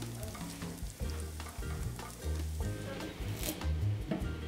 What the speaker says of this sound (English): This is half an onion, which Ada fries in some olive oil.